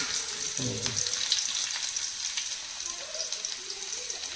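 Hot oil tempering for a jackfruit seed curry in a home kitchen, a steady close sizzle throughout with a brief stir or clatter early on.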